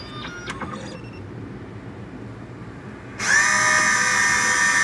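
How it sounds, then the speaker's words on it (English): A Miracle A7 Plus key machine cuts an H72 key: quiet ambient noise with a few faint clicks, then at about three seconds a loud, steady high-pitched whine from the cutter starts abruptly and holds to the end. "That's going to cut the key."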